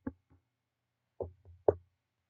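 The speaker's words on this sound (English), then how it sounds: "I'm going to knock." Knuckles rap a sturdy wooden puzzle box, a quiet close knock, a pause, then two more knocks in quick succession.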